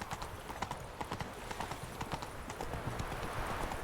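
A horse's hooves clip-clop steadily in The Witcher 3 video game, a quick, even rhythm of hoof strikes at moderate loudness against a soft ambient background.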